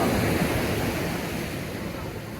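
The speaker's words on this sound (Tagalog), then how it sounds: "Tingnan nyo ang lalakas ng alon dito." Strong surf at an Australian beach roars as a continuous, loud wash of breaking waves, close by, with wind buffeting the microphone and no talk.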